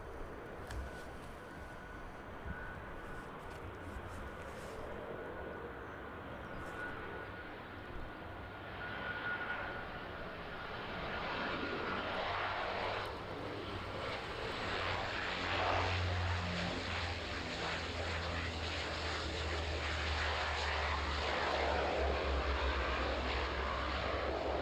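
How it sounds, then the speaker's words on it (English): Boeing 777 airliner on approach and touching down at East Midlands Airport, a steady jet engine roar that swells louder and closer as it passes, continuous and without talk. "Let's pan out on the 777 and catch this one in."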